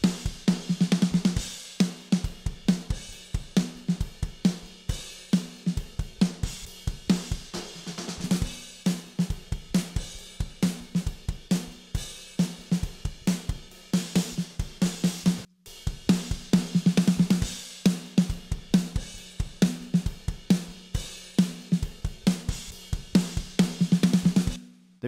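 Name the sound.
snare drum recorded with Shure SM57 then AKG C451 top mics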